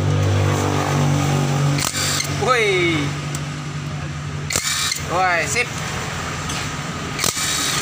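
A J-LD battery-powered cordless impact wrench fitted with an 8 mm socket loosens an engine bolt in short bursts of whirring hammering, two main runs separated by pauses, while someone speaks throughout.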